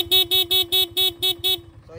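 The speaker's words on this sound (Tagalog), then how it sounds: "So yan yung stock horn natin" A stock motorcycle horn honks seven times in a steady, even rhythm, each short blast loud and close, followed by a brief pause and then a faint, quieter sound at the very end.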